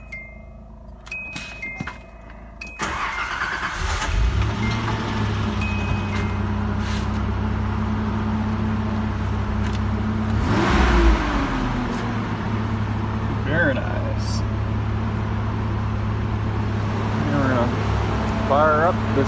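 A 1984 Datsun turns over after a cold start, with dashboard chimes beeping and then the engine catching into a loud, steady idle with a rev rising midway. A person talks over the running engine.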